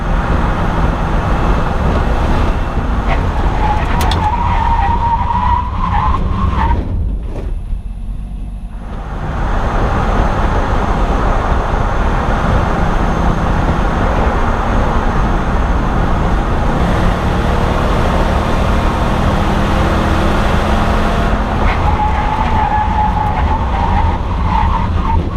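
Lifted truck during a hard braking test, loud sustained road and engine noise with a sudden drop into near quiet as it stops, then driving noise resumes and a tire squeal rises again later.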